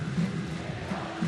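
Stadium crowd noise at a World Baseball Classic game in Taichung, Netherlands against Chinese Taipei, with a steady dense roar and a few rhythmic swells of chanting and cheering throughout.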